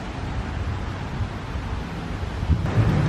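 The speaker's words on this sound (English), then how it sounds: "It's really windy." Strong wind roars outdoors in a park on a stormy day, a continuous low rumble buffeting the microphone with no break and no one speaking.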